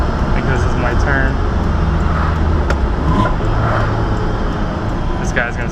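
A Toyota AE86 drift build with fiberglass fenders, on its first drive, produces a loud, close engine drone with shifting tonal whine and road roar, heard from inside the car.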